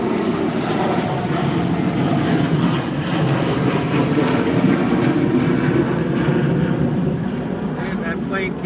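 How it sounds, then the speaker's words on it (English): Low-flying airplane passing near an airport on its approach, a loud continuous broadband engine roar sustained throughout, close by and steady. "Man, that plane came in low."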